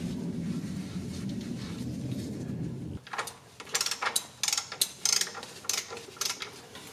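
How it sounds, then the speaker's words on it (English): Click-type torque wrench tightening an oil drain plug on a Ford F-150, a series of sharp distinct clicks following a short stretch of low rumbling background noise, close and clear, no speech. "You can hear and feel the click without having to look at the torque wrench."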